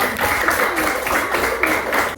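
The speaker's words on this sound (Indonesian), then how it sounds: "tepuk tangan dulu" A classroom of students applauds together, a dense, steady wash of many hands clapping up close that holds loud throughout.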